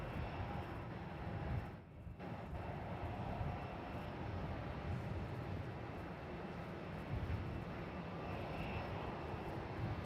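A Jetstar Airbus A320 arriving from Coolangatta at Melbourne Airport, heard as a broad, steady jet engine roar that stays moderately distant and even throughout.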